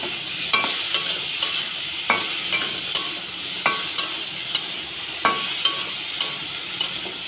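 Boiled, drained vegetables being stir-fried in a little oil, a steady sizzle under evenly spaced spatula taps and scrapes against the pan, about one every half second, without any talking.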